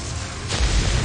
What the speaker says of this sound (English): The explosion is about to go off.